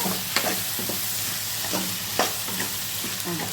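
Tomatoes and onions sautéing in a pan for a mushroom pepper masala, a continuous close sizzle broken by several sharp spoon scrapes and stirs.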